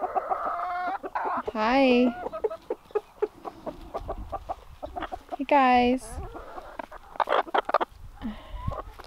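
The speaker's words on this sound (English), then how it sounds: "our rooster, silky rooster" Silkie chickens cluck and a silkie rooster gives two long, drawn-out squawking calls, close by, while a person briefly speaks a greeting.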